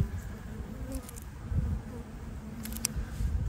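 Honeybees drone in a steady low hum around an open hive during a frame inspection, close and continuous, with a few brief higher buzzes passing near.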